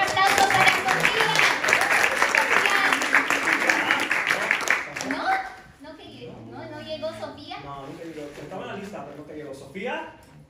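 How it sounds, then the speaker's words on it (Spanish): An audience at a slam poetry event applauds loudly for about five seconds, then the clapping fades as voices talk over the room. "¡Un aplauso para Sofía!"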